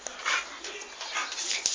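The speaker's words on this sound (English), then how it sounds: "that dog, meaning this dog right here, crawled through the fence and got into my backyard" A neighbour's dog that crawled through a backyard fence whimpers and makes soft yipping sounds close by, a short, thin, uneven burst of high whines.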